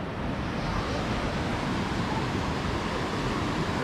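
Warm sea surf rolling onto a beach at Da Nang, Vietnam, a steady broadband wash of breaking waves close by, continuous for the whole stretch with no break and no voices.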